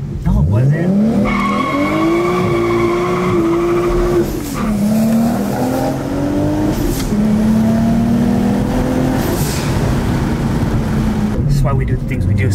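A car driven hard lets out a loud, sustained tire squeal and skid that wavers in pitch over a constant engine roar, with voices faintly mixed in.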